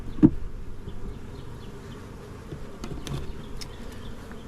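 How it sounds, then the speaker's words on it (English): A honeybee swarm buzzing on a hive frame heavy with nectar, a soft, dense hum of many bees close by with a few brief louder buzzes from individual bees passing near. "it is packed with bees"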